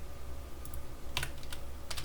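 Quiet, sparse typing on a computer keyboard, a few short bursts of clicks with gaps between them and no voices.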